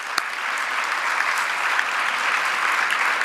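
A crowd at a winter convening applauds college graduates with a full, steady round of clapping, dense and even throughout, without any speech on top.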